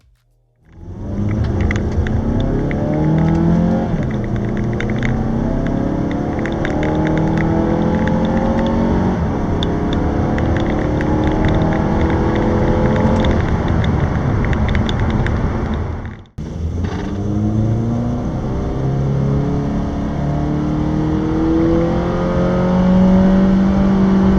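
A 2016 Mazda 6 GT or 2016 Honda Accord Sport sedan revs and pulls hard through its gears, a steady loud drone rising in pitch with each shift, one brief drop in the middle.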